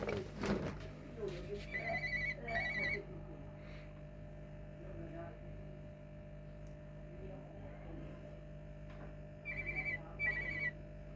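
A pet bulbul mimics a mobile phone ringtone, giving short bursts of ringing, warbling trills near the start and again near the end, over a steady low hum with quiet talk between.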